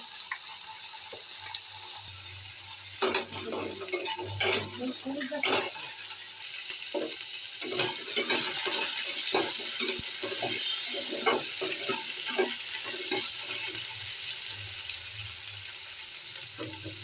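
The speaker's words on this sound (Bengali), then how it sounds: "কাঁচা লঙ্কা চিড়ে পাশে আমি একটু ভেজে নেব" Soft crackling sizzle of slit green chillies frying in a pan, with occasional sharper pops and stirring scrapes throughout.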